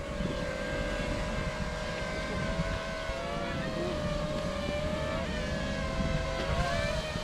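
A small Tello drone flies nearby, its propellers giving a steady, high-pitched buzzing whine with shifting tones that stays constant and fairly loud throughout.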